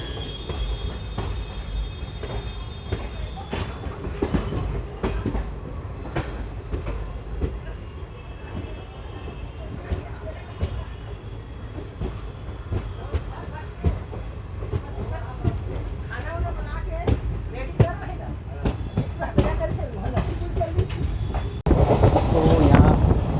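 Indian Railways 11404 Kolhapur–Nagpur Express running on rails after leaving Kolhapur, a steady rumbling roll with faint rhythmic wheel clatter throughout, rising to a louder rushing burst near the end.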